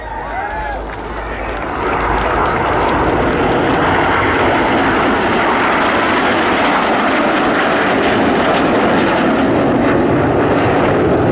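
A Panavia Tornado jet roars past at an air show, its engine noise swelling from a quieter start into a loud, sustained broadband roar that holds to the end, with a commentator's voice over a public address in the background.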